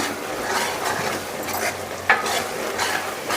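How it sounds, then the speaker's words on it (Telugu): Chicken masala and curry masala are stirred into a mushroom curry in a hot pan, producing a close, steady sizzle with scraping spoon strokes and one sharp clink. "ఇదైతే కర్రీ మసాలా ఒక టేబుల్ స్పూన్ అంత వేసుకుందాం వేసైతే బాగా కలుపుకుందాం"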